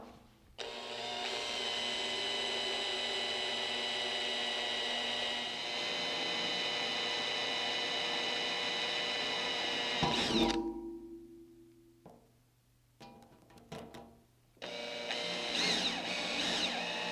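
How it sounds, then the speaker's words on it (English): An electric drill whines steadily while boring a small pilot hole into metal with lubricating oil during a Delta Unisaw restoration, running for about ten seconds, stopping, then starting again after a few short bursts. "We first want to drill a small hole as a pilot hole before we drill a larger hole."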